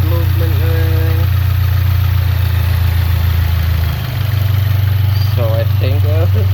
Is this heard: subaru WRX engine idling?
yes